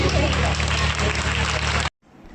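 An audience at a Guru Purnima religious gathering breaks into loud, dense applause with a steady low hum underneath, cutting off abruptly near the end.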